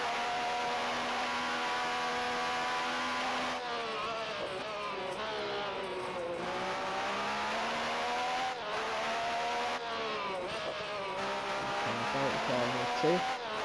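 Onboard engine note of a race car on a 1988 Portuguese Grand Prix qualifying lap in a sim racing game, a continuous high revving whine rising and dropping through gear changes, with commentary talk over it.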